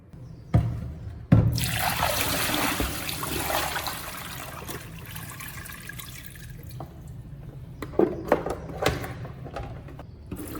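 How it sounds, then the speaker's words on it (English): Running water streams and splashes as sweet potatoes are rinsed, starting with a clatter and a bright gush, then a steadier trickle with occasional knocks and drips near the end. "After soaking, rinse them again and let them drain before cooking."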